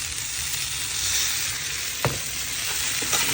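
Cloves, a cinnamon stick and turmeric sizzle steadily in olive oil, a dense close frying hiss broken by a sharp utensil tap near the middle and a couple of lighter clinks toward the end.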